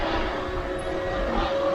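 Potensic Atom LT drone flying in strong wind, a steady whining propeller buzz with a faint high tone, continuous and moderately loud against wind rumble.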